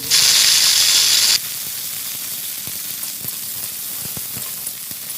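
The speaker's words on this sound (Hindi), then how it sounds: "चलिए अब जल्दी से छौंकते हैं।" A loud burst of spices, ginger, garlic, chili and cumin hitting hot oil sizzling for about a second, then dropping to a quieter steady crackle with light clinks.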